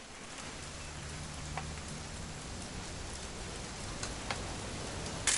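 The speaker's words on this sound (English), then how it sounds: "It's gonna rain the whole weekend, isn't it?" Steady rain falls in the video game What Remains of Edith Finch, a constant even hiss with a few louder drop ticks, close and unbroken throughout, with no voices.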